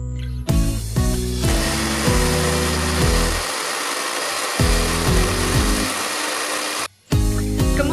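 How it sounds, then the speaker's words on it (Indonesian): A blender grinds pandan leaves with a loud, whirring motor that runs in bursts, steadying into a long grind before briefly cutting out and starting again. "kita akan menghaluskannya menggunakan blender supaya menjadi lebih mudah"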